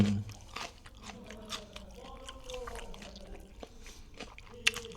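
Crab sticks being chewed close to the mic, with soft wet crunches and squishy bites repeating over a few seconds, a short murmur and a brief sharp click near the end.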